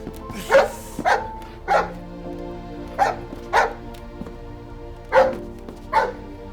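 A dog barks eight times in a steady, fairly loud series, each bark short and close, with a low hum underneath and no talk.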